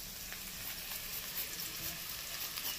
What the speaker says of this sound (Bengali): পেঁয়াজটাকেও ভালো করে ভেজে নিই যতক্ষণ না লালচে হচ্ছে